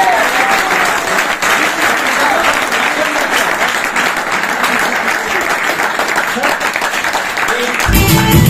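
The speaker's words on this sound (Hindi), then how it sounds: "अपने लिए जोर से ताली बजा दो" An audience at a motivational seminar claps loudly and continuously for around eight seconds, a thick steady patter of many hands, before it cuts off abruptly into a brief different sound.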